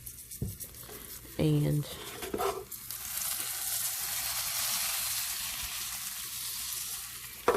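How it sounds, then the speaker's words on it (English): Codfish cakes pan frying in butter, a steady close hiss and sizzle that fills most of the stretch, with a brief spoken word and a few clattering sounds near the start. "we're just gonna pan fry it the old-fashioned way"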